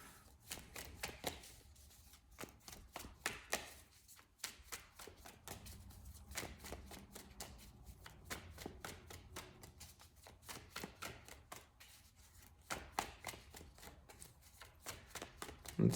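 Tarot cards are shuffled over and over, a quiet series of rapid riffling and flicking sounds, close by and fairly soft.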